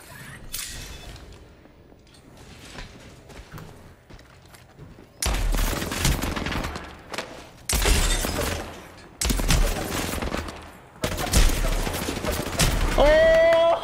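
Gunfire in a shooting video game: after quiet rustling, several loud separate bursts of rapid shots erupt in clusters, sharp and close, with a voice speaking now and then.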